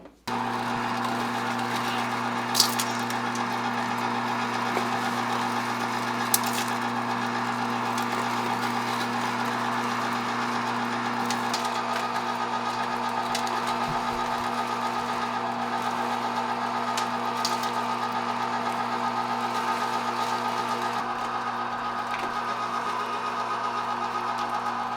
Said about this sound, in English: I'm just going to trickle this in as I grind this fat.